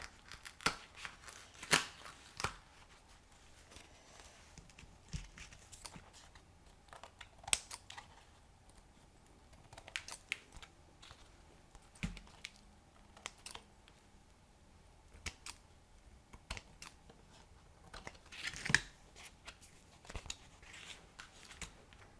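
Scissors snipping through dried acrylic paint skins for a collage, a scattered run of quiet, close cuts and clicks spread across a hushed room.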